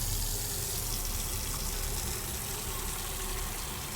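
Tap water runs steadily into a container in Autopsy Simulator, a continuous close, even gush with no talk over it.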